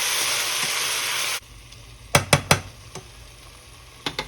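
Chicken in red enchilada sauce sizzles loudly in a hot pan, then the hiss cuts off and a few sharp stirring clanks and scrapes of a utensil follow, with a couple more near the end.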